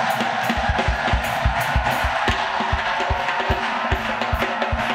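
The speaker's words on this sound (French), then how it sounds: "Offrande d'acclamation à Jésus-Christ." A church crowd raises a cheering acclamation to Jesus Christ, with rhythmic clapping pulses and mixed shouts filling a loud, lively hall.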